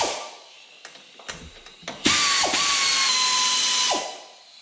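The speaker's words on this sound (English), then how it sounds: "Well, I broke them all loose with a ratchet." Ratchet work on the head bolts of a John Deere D110 lawn tractor engine: a few scattered mechanical clicks, then a loud, steady whirring burst lasting about two seconds that stops abruptly. Close by, with no talking.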